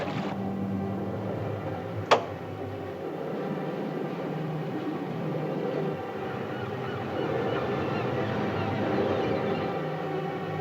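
A ship's engine runs slowly while heading down the bay, a steady low rumbling drone with a constant broadband wash and one brief sharp ping near the start.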